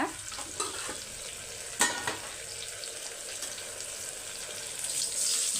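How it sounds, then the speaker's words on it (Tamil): Tomatoes sauté in a pan for a Tamil kurma, giving a continuous hissing sizzle with a few sharper clinks and stirring knocks early on. "இப்போ தக்காளி வதங்கட்டும்"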